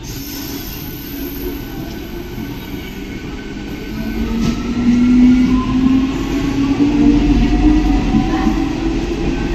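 An express train pulls into a railway station ahead of schedule, its rumble building from about midway and a rising wheel tone sliding upward as the carriages roll closer and louder, with no voices over it.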